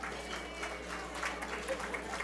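Brief, steady applause from alumni in the audience at the MIT Spotlight Gala 2018, a light scattering of claps at moderate level with some faint crowd murmur mixed in.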